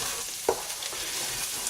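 Curry powder being stirred into chickpea masala in a pan, giving a brief scrape near the middle over a steady low sizzle, with no voices.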